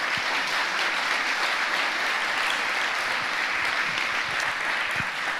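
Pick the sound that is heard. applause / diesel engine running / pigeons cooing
applause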